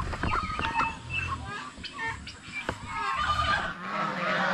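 A flock of geese honking noisily, harsh overlapping calls repeating throughout, with ducks and farmyard commotion and a voice in the background.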